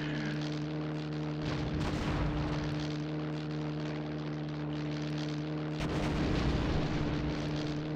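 Bombs burst in the WWI flight-combat game ACM 1918 on PC: two heavy rumbling blasts, near the start and near the end, over a constant droning aircraft engine.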